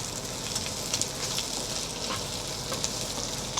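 Steak sizzles steadily in a hot pan for steak fried rice, cooked inside a truck, a soft, faint crackle with a few brief pops and no talking.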